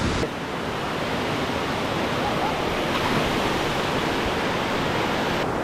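Beaver Falls at Havasu pours with a steady, loud broadband roar of falling water that holds evenly throughout, close and continuous with no other sounds standing out.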